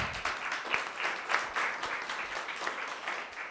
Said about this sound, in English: let's give the panel applause